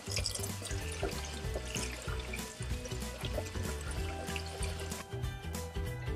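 Canned mushrooms are rinsed in a kitchen sink under a running tap, a steady close splash of water pouring over them throughout.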